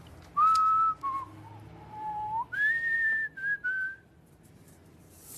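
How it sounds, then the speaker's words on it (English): A person whistles a short melodic tune, clear and close, with sliding pitch changes and brief pauses between phrases. "I think a boy's allowed to whistle if he wants to."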